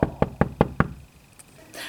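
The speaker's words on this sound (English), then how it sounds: "But that night there was a knock at the door." Five quick, evenly spaced knocks rap on a door, close and crisp, followed by a quiet pause with faint background noise.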